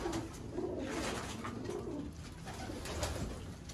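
Soft cooing of Sialkoti rooftop pigeons murmurs on and off against a steady noisy background, fairly faint and without any talking.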